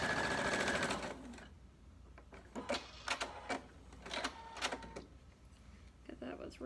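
A sewing machine stitches along the edge of a pillow made from a t-shirt, whirring loudly for about a second, then falling to short stop-start bursts and clicks as a person speaks over it.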